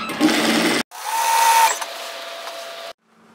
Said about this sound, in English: continue matching notches and sew down to the hemline